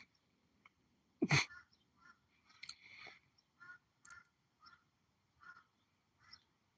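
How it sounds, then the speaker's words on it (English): Several harsh calls from a crow outdoors, spaced irregularly with pauses between them, faint and distant-sounding, with one louder burst near the start. "there's a crow talking outside."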